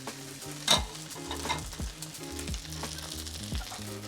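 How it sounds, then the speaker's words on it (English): Beef and leftover rice stir-frying together in a pan for homestyle fried rice, a close crackling sizzle with a sharp metallic scrape near the start and repeated rhythmic stirring strokes. "We're gonna cook the ingredients through, especially the beef."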